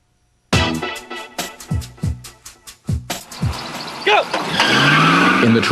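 A street racing car skids with sharp, repeated tire squeals in quick bursts, loud and close, followed by a rising engine roar, with some voices mixed in.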